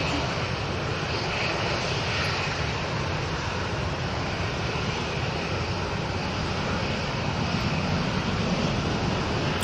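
A plane taking off at Manchester Airport, its engines roaring steadily and loudly for about ten seconds from a spotting position nearby, with no talking.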